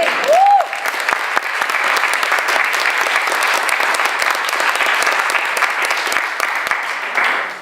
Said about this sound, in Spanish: ¿Cuántos pueden dar un aplauso al Señor?